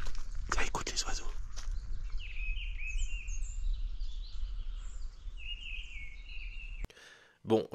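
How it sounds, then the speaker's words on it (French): Several small birds chirp and warble at moderate distance outdoors in quiet surroundings, with a few soft footsteps or rustles up front and a short knock near the end. "Tiens, écoute les oiseaux."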